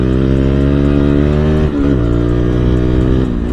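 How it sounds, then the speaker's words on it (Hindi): A KTM Duke 250 with a modified aftermarket exhaust revs loudly and steadily up close, its engine note briefly dipping and climbing again in two quick throttle blips with no voices. "तो एग्जॉस्ट ही लाउड है क्योंकि मॉडिफाई कर चुके हैं इस वाला एग्जॉस्ट को।"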